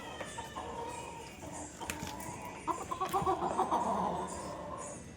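Chickens clucking outdoors beside a house courtyard, a faint cluster of soft clucks and calls that grows busier toward the end over a quiet background hum.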